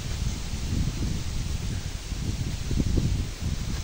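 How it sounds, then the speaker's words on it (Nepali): Low, steady rumble of wind buffeting the microphone, with a soft rustling texture throughout and no voices. "कस्तो मस्त हावा छ है आज"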